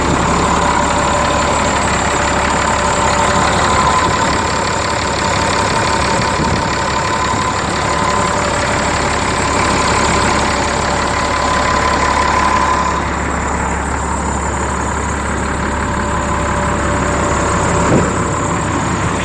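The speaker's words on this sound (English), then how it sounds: "Great sounding running diesel Caterpillar motor there." Diesel Caterpillar engine in a box truck with a lift gate idles steadily and loudly close by, a constant low rumble with a faint mechanical whine and no pauses throughout.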